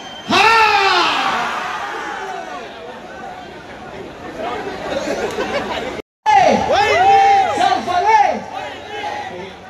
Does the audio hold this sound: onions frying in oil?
no